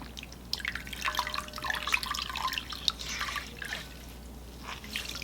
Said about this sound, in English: I'm just gonna dampen my face